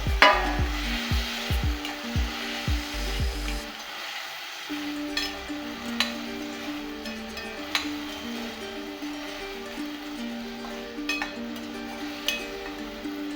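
Vaal bhaji sautéing in a pan, a soft steady sizzle with occasional stirring scrapes and light clinks of a spoon against the pan, close and continuous over faint background music.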